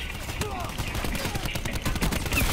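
Pistol shots in a shooter video game, several sharp gunfire bursts in quick succession against a busy, noisy battle mix, fairly loud and close.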